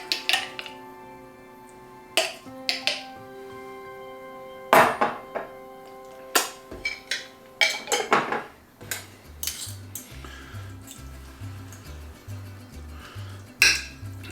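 A metal utensil clinks and scrapes against a pan while spinach pesto is mixed into spaghetti, with sharp scattered knocks over about fourteen seconds, a few louder strikes, and a low rhythmic rumble in the later half.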